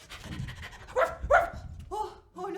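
A performer's voice imitates a dog during a French theatre monologue, giving short panting and yapping bursts with a couple of whimpering, voiced sounds, close and fairly loud with no other speech.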